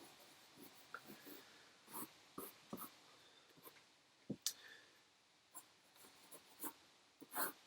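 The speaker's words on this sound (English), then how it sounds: "I'm going to go a little bit deeper into it with the pencil." A pencil scratches and strokes across paper in short, irregular bursts while a comic illustration is sketched, soft and close, with quiet gaps between marks.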